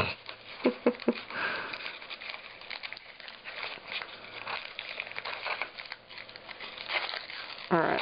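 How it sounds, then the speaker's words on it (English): Wax paper peeled and torn away from a paste and paper napkin craft piece, with soft crinkling, rustles and small tearing sounds, faint and close, with a few sniffs. "I'm peeling wax paper, or I'm tearing the paper"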